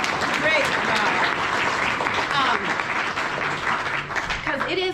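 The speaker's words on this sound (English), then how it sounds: "So I think we should give our teachers a huge round of applause." A school audience applauds its teachers at a student presentation, the dense clapping steady and loud for the full stretch with voices and cheers mixed in.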